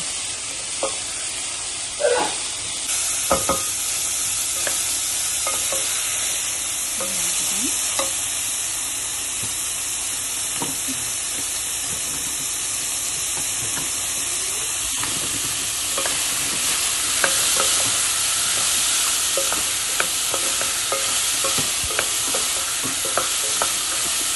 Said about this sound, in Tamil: போட்டு கொஞ்சம் வதக்கணும்.